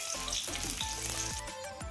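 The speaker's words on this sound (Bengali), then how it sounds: "আমি গ্যাসের চুলায় কড়াই বসিয়ে দিয়েছি, তেলটাও আমার গরম হয়ে আসছে" Oil heats in a wok over a gas stove before banana flower is cooked, giving a steady close crackle and sizzle that carries on without a break.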